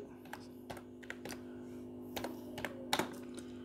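Typing on a computer keyboard in the Excel VBA editor: a quick scatter of light, irregular key clicks, fairly close and quiet, over a faint steady hum.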